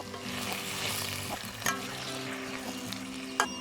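Pork sizzles and fries steadily in a pan as lemon juice goes in and gets stirred, with a close, continuous crackle and a couple of sharp utensil knocks against the pan.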